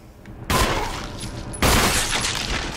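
Two loud, sharp gunshot blasts from a headshot in Resident Evil Remastered ring out about a second apart. Each one crashes in suddenly and leaves a rumbling tail, and no voices are heard.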